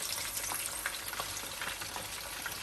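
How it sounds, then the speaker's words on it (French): Fish fries in hot oil in a pan, a continuous close crackling sizzle with scattered pops and small scraping clatters as the pieces are flipped, no voices present. "Donc, je retourne mon poisson pour le faire frire de l'autre côté."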